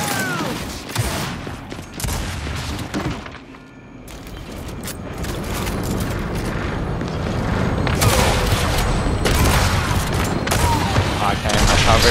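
Pistol shots ring out in a video game firefight, with bursts of sharp cracks and booms mixed with mechanical clicks and clatter. A player talks over the action.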